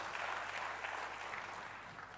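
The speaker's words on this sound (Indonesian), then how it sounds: "berikan sekali lagi tepuk tangan bagi Tuhan" Congregation clapping during a church service in Tegal, a dense, steady wash of many hands filling the room at close range, holding fairly even before easing slightly at the end.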